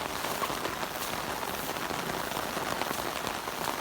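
Heavy rain pours steadily onto surfaces in a flooded backyard during a thunderstorm, a dense, continuous hiss with scattered nearer drops, loud and unbroken throughout with no voices.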